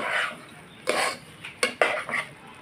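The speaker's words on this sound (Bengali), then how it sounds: "দিয়ে ভালো করে মিশিয়ে" Roasted cumin powder being mixed into boiled rice in a cooking pot for alur muri ghonto, with a few distinct scraping clinks of a spoon against the pot separated by short pauses, close by and fairly quiet.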